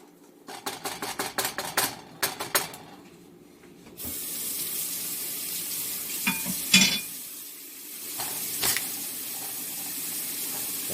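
Beef stew with potatoes in a pot, stirred with a series of quick scraping knocks, then a steady close bubbling simmer with occasional clinks and splatters.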